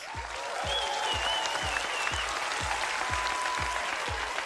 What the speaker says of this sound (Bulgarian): Аплодисменти за Funky Monkeys!